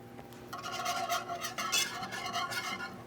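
A whisk scrapes and swirls through a dairy-free moussaka sauce seasoned with white pepper, nutmeg and cumin, a quick rhythmic series of soft rasping strokes against the pan, close and fairly quiet.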